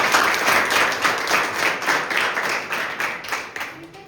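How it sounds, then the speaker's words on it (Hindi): Vigorous applause rings out for Sunita Devi at a youth village council meeting, many hands clapping together in a loud, continuous burst with slight rhythmic surges throughout. "इसलिए इनके लिए जोरदार तालियां"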